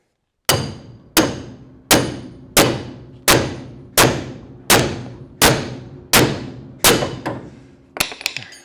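A hammer pounds a pickle fork to split a suspension ball joint on a Camaro: about ten loud, evenly spaced metallic blows ringing close up, followed by a quick flurry of lighter hits.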